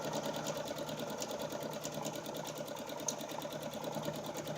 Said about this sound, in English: the foot of the sewing machine will be directly on the edge of the fabric. We're going to back stitch it first.